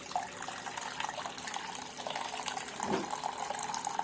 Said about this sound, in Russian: Сейчас я включаю кран.